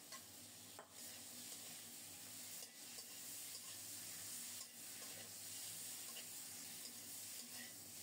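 Bananas being stir-fried with spices in a pan, a steady soft sizzle and scraping stir running throughout, with a few brief louder stirring clatters.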